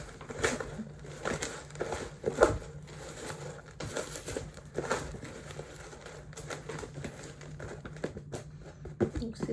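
Damp sphagnum moss substrate being mixed by hand, making soft close crinkling, crunching and pattering rustles in irregular bursts over a low steady hum, without talk.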